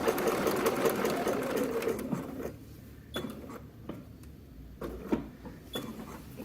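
A domestic sewing machine stitches an X onto a shirt, a quick motorized needle whir for about two seconds, then short stop-start bursts of stitching separated by quiet pauses as the seam changes direction.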